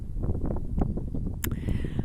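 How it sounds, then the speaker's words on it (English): Gusty wind buffets the microphone with a continuous low rumble, and a brief high tone cuts in near the end. "I hope you can hear me over the wind. It's getting a bit windy now"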